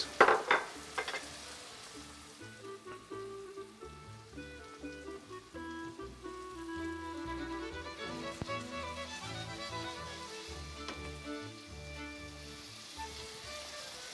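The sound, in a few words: onion frying with lamb fat on high heat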